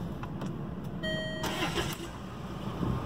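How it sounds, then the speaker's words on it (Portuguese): A Land Rover Freelander 2 starts with a short beep followed by the engine cranking and catching, faint and close under steady background noise. "Tá funcionando, carro ligado e dando partida."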